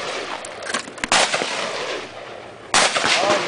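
An Irish Army service rifle is fired at a range, with sharp loud reports standing out over outdoor background noise and spaced far apart.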